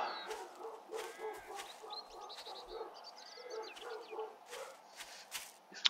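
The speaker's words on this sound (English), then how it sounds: "Come here, chicken!" A chicken clucks in short bursts in the survival game 7 Days To Die, faint and scattered over a quiet background, with occasional dog barks mixed in.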